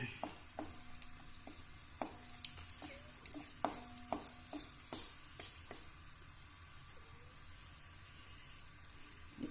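Cashews fry in ghee in a pan for Kerala-style uppumavu with roasted rava. A soft sizzle runs under repeated light clinks and scrapes of stirring against the pan, close but fairly quiet.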